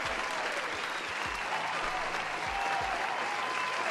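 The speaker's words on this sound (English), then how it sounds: "Little round of applause" Applause rises from a gathered audience at a homebrew tabletop role-playing review event, a steady wash of clapping that holds for several seconds at moderate level with a few louder individual claps near the front.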